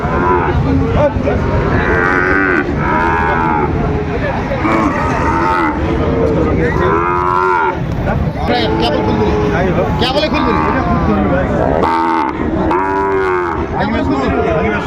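Sahiwal bull calves and other cattle mooing repeatedly and loudly at a busy livestock market in Dinajpur, with people talking close by throughout.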